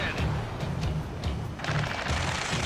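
Gunfire in the video game Ace Combat 7 Skies Unknown, bursts of automatic fire rattling in quick repeated volleys over a steady low rumble, with a denser, brighter barrage toward the end.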